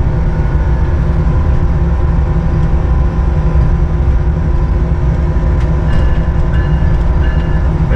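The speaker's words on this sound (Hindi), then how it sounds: "वार्निंग बेल के साथ अप्रोच बना रहे हैं हम प्लेटफॉर्म के ऊपर" Train on the Bolan Pass railway approaching a platform, a steady loud rumble of wheels and carriages throughout, with a warning bell and faint clanks over the continuous roar.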